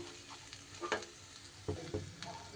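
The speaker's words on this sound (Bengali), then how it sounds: "এবার খুব সুন্দর করে সব কিছু আমি ভালো করে মিশিয়ে নেব" A cabbage mixture being stirred and mixed in a frying pan for a vegetarian dhokar dalna, with soft scraping strokes and a few sharper clicks of the spatula over a low sizzle, no talking.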